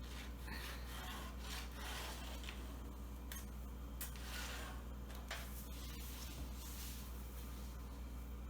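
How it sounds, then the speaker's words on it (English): A range hood held under a kitchen cabinet while screw-hole locations are marked onto the cabinet: faint, intermittent scratching and rubbing strokes, with a few sharper taps, over a steady low hum. "I'm going to mark where the holes for the screws will go"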